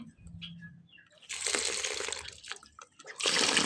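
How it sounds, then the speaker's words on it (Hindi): Water is poured into a container for pigeons in a village, a gushing stream that starts, stops briefly, then runs again, splashing and loud near by. "इसमें अब थोड़ा सा हमने डालना है पानी"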